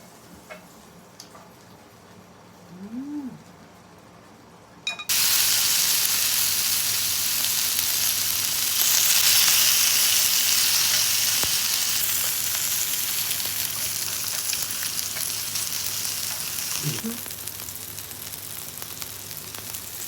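Onions hiss and sizzle loudly in a pan with yakiniku, starting abruptly after a quiet moment and holding a steady frying crackle that eases slightly near the end.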